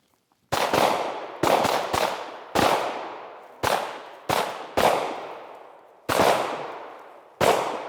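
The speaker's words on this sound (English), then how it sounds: "we want to shoot about 4 or 5 rounds between here and that 5-yard line" Handgun shots fired on a range by a shooter moving toward the 5-yard line, eight sharp, loud reports in an uneven rhythm, each ringing out briefly before the next.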